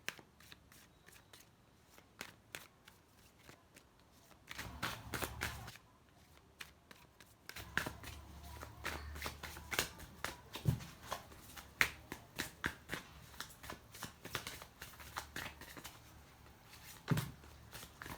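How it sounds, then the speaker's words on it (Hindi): Tarot cards shuffled by hand, a long run of crisp riffling flutters and snappy slaps, fairly close and clear, with no talking. "फिर मैं कार्ड शफल करने जा रही हूँ।"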